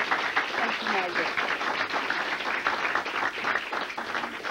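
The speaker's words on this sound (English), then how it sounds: "let's give her a big round of applause." An audience at a 1996 inaugural meeting in Charleston, West Virginia, claps in a continuous, fairly loud round of applause, steady from start to end, with some voices underneath.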